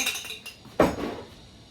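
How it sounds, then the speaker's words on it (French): A metal spoon clinks once against a dish while being quickly cleaned during sourdough bread making, a single close bright tap with a short ring and a few faint scrapes. "Juste nettoyer ma cuillère rapidement."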